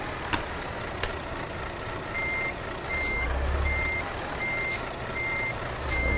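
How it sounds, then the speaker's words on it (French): A Volvo tandem truck reverses in Euro Truck Simulator 2 with the Promods map mod, its evenly spaced, repeating backup beeps sounding over a low, quiet engine hum, with a few faint clicks and brief surges in the rumble. "je suis pas habitué de faire une marche arrière avec un tandem"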